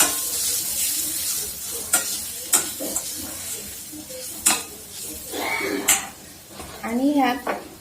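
A spoon scrapes and stirs potato bhaji seasoned with Maggi masala and salt in a pan over a soft sizzle, with a few sharp metallic clinks against the pan's sides and a voice speaking briefly.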